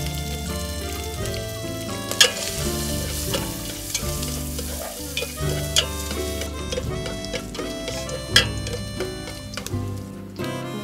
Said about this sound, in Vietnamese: nó thắng cái mỡ cá là trước.